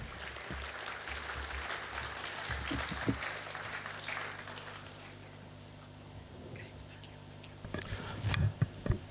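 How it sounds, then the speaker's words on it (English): An audience at a procurement and supply chain management event gives a rain clap, a soft, pattering wash of clapping that rises and falls for several seconds, with faint voices and a low hum underneath. "Let's warm our hands as we clap, give a rain clap to Mr. Muraguri as he comes on board."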